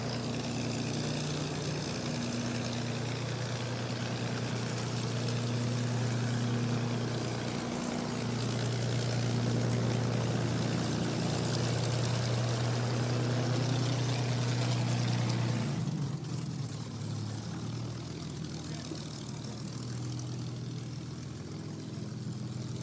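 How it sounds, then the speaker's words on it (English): A Supermarine Spitfire's piston engine warms up on the ground at an airfield. It makes a loud, steady, deep propeller drone with a throbbing low hum for most of the clip, then eases to a slightly softer run near the end. "I'm going to walk over towards this lovely Spitfire now and enjoy the noise as Mark warms the engine up."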